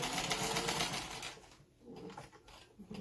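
A sewing machine stitches fabric up close, running in a rapid buzzing whir for over a second, then stopping before faint short bursts resume.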